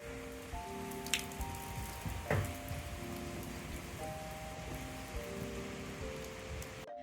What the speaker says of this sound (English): So it's raining outside